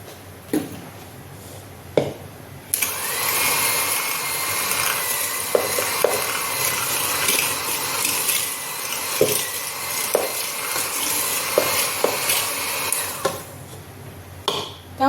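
Sugar and cooking oil being mixed for marble cake batter, a continuous whirring, churning mix sound running for about ten seconds between a few sharp knocks against the bowl.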